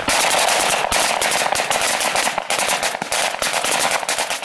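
Dense rapid gunfire during a riot police assault training exercise, with sharp cracking shots in fast irregular bursts, loud and continuous throughout.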